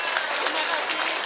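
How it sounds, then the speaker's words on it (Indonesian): Brief burst of crowd applause during a sermon by a preacher, dense clapping with voices mixed in. "Monggo tepuk tangan dulu dong tinten menika."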